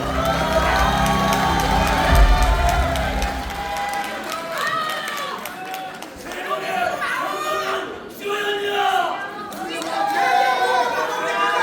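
Crowd cheering and clapping at a Democratic Party joint campaign rally in a convention hall, with a loud burst of cheering and chatter that continues steadily through the clip to welcome a candidate.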